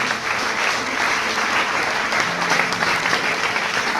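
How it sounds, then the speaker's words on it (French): Applause in a church service fills the whole stretch, a steady dense wash of many hands clapping at even loudness with no break. "Clap for this one."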